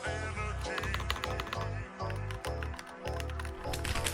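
Typing on an EPOMAKER HE68 mechanical keyboard with a plastic case and aluminum alloy plate, rapid clacky keystrokes in quick bursts, close up, over a steady bass-heavy backing track.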